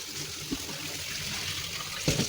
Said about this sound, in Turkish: Nişastası gidene kadar 3-4 defa güzelce yıkayalım